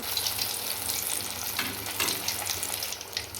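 Vadas made from leftover rice deep-fry in hot oil, a continuous near sizzle full of fine crackling and bubbling that swells and eases slightly, with no voices.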